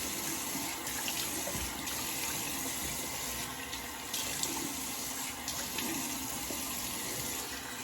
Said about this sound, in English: Nice warm water rinse.